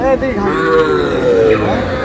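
A young Sahiwal bull calf lets out a single drawn-out moo close by, loud and wavering in pitch.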